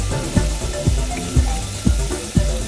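Chips frying in hot oil, a steady close sizzle and bubbling with a few soft knocks as the oil is stirred and the potatoes are moved.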